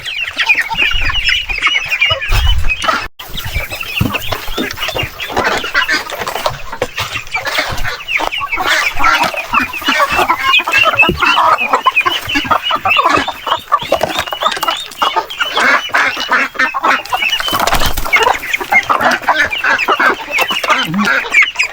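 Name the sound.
native chickens clucking at feeding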